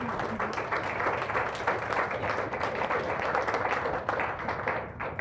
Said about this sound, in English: A round of applause for all speakers, please